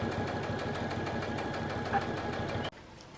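A sewing machine runs steadily at a rapid, even rhythm while stitching quilt-style seat cover fabric, then stops abruptly near the end, leaving quiet.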